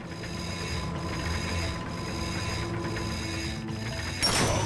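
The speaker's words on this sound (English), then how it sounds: "Get on that bolt crank, come on!" Bolt crank spinning in the Ratchet & Clank video game, a continuous mechanical ratcheting whir with a few faint periodic breaks and a brighter metallic burst at the end, no voices over it.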